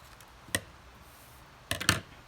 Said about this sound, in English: And then you're going to cut that out.